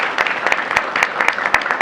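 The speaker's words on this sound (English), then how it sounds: "We would like to also just give one round of applause to our amazing color guard" Audience at a school board meeting applauds a high school color guard, a crowd of hands clapping steadily with distinct sharp claps popping out of the dense patter.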